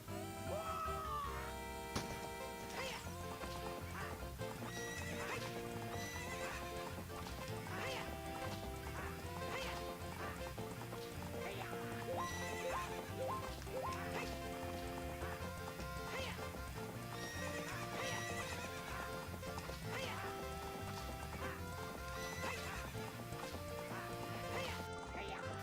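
Horse hooves clip-clop and a horse neighs during a race in The Legend of Zelda: Ocarina of Time, set against layered game music and other animal calls such as duck quacks.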